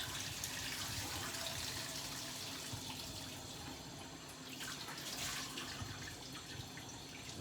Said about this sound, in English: So Russell heats the water up